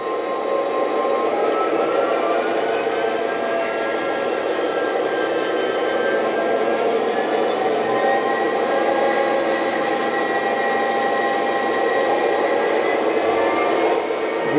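A Lionel Legacy DD35A model diesel locomotive revs its engine sound, a loud, steady droning rumble with layered tones held for about fifteen seconds, no speech.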